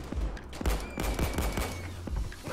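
Sustained automatic gunfire from a sentry gun in the video game Payday 2, a dense rattling fusillade of rapid shots, loud and continuous throughout with no talk.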